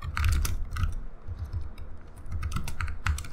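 Typing on a computer keyboard, a quick run of clicky keystrokes in uneven bursts, close and clear with nothing else audible.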